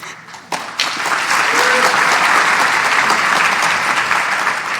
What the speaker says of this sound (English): I'm just going to let you guys clap because this is great for celebrating